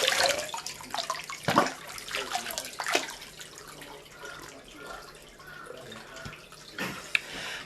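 Groundwater running in a traditional Kabata pool used for drinking, cooking and washing rice: close splashing and trickling with irregular bursts, then quieter running water and one last splash near the end.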